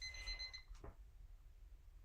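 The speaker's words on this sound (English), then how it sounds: "Timer, Faye" A timer alarm chirps in a quick electronic burst of high beeps at the start, then stops, leaving a faint room hush with a short soft knock or movement sound after it.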